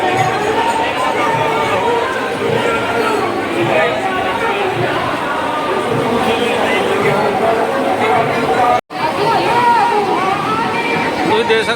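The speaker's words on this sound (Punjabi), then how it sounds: "ਹੋ ਕਿੰਨੀ ਭੀੜ ਆ" A dense crowd chatters loudly and steadily at a Punjabi village fair (mela) at Asahur near Ludhiana, with overlapping voices forming a continuous babble, broken only by a brief dropout near the end.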